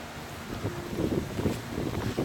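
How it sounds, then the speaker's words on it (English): Strong wind buffets the microphone on a hilltop along the South Downs Way, a continuous low rumbling roar with gusty swells that rise and fall over a couple of seconds. "the wind has proper picked up now"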